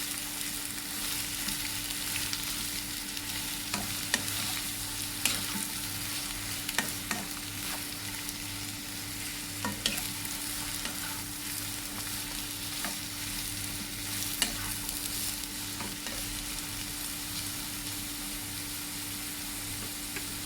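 Bottle gourd being stir-fried in a pan until cooked, a continuous sizzle with occasional scrapes and taps of the spatula, steady and close throughout with no one speaking.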